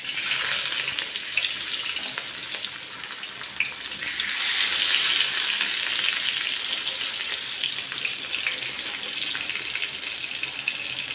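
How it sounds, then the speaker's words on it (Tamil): Brinjal slices fry in mustard oil on a hot tawa, a loud continuous hissing sizzle that swells briefly midway and holds steady throughout with no voices. "நல்லா ஃப்ரை பண்ணி எடுத்துக்கலாம் ரெண்டு சைடும்."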